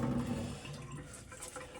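Water sloshes and drains from a bowl as rice is rinsed, a brief soft splashing and trickling close by, with no voices.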